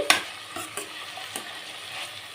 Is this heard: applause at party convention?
no